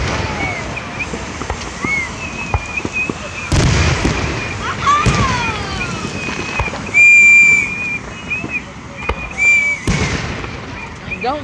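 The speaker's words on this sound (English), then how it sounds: "That's what every house is gonna set off the fireworks." Fourth of July fireworks over a lake, with whistling rockets and several sharp bursts echoing across the water amid scattered crackles, while people chat nearby throughout.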